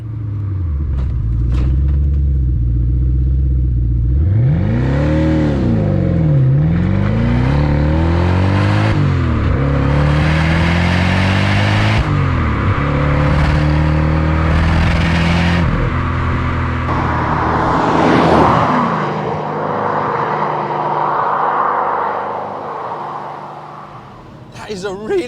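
A Maserati 3200GT engine revs hard on a full run, rising and falling through the gears with a loud, close, rumbling roar that eases off near the end, with someone talking over it.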